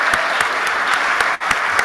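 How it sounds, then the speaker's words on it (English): Steady audience applause at a Sunday church service fills the space, dense and sustained with a few sharper claps standing out and a brief dip near the end. "Let's give Kim a round of applause"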